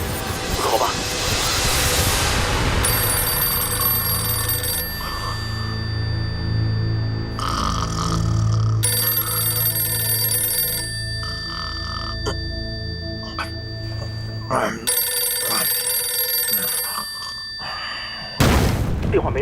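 An old-fashioned military field telephone in a wartime headquarters rings unanswered, sounding in long, loud, repeated bell bursts separated by short pauses, with voices and room noise around it.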